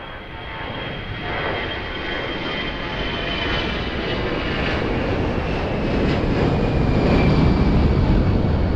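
A passenger airplane takes off from runway 02 at Lisbon Airport with a loud, steady jet engine roar that builds gradually as it accelerates, heard alone without voices.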